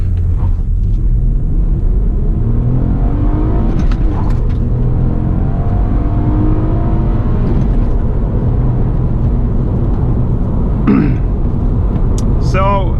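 A 2007 Honda Accord V6 with a manual gearbox accelerates hard with traction control off, heard from inside the cabin as a loud, steady low engine rumble and road roar that builds throughout.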